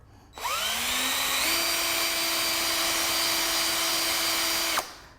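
A power drill bores a countersink into pallet wood, spinning up quickly into a steady high whine that holds for about four seconds before cutting off, loud and close with no talk.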